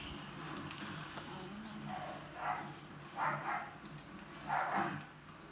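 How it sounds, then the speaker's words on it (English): Dogs bark from a distance in three or four short, muffled bursts that grow slightly stronger toward the end, over steady background hum. "Sorry about the dogs barking and that."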